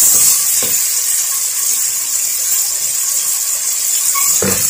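Carrots and other chopped vegetables hit a hot, oiled pan for chicken vegetable soup, giving a loud, steady hiss and sizzle with brief clatters of stirring, and nobody talking.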